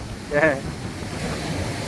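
Ocean waves surging in white water at a beach at Scotts Head, New South Wales, a steady washing roar with wind noise and a brief swell near the start, with a faint voice briefly heard.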